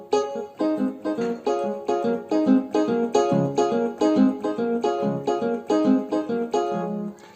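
Keyboard playing an Ariaria vamping progression, a steady bouncing rhythm of repeated chord stabs with a moving bass line, clear and close with no voices.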